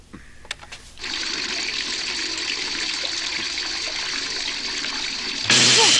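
Water running from a tap in a Los Angeles home, a steady broadband rush that starts after a second of quieter sounds and holds evenly until a louder, brighter surge near the end.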